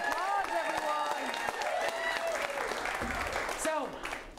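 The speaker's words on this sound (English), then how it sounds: "Round of applause, everyone." An audience at an improv comedy show claps and cheers steadily, with voices mixed into the applause throughout.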